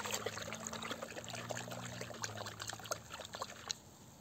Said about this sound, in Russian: Вот там эта жидкость. Все это размешиваем.